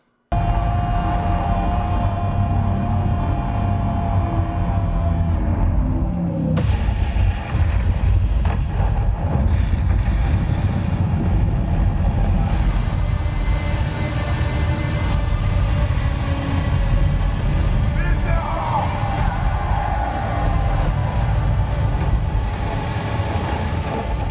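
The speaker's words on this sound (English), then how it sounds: "let this play out so you can get a sense of the kind of textured LFE associated with riding the Sandworms" Deep, textured low-end bass from the Dune Part Two soundtrack during the sandworm-riding scene rolls on as a loud, continuous rumble with shifting layers and no speech.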